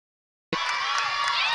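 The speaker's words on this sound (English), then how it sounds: "you could hear the crowd calling the ball to the post" A netball crowd at a league semi-final calls out loudly as one, shouting and cheering abruptly after a moment of silence.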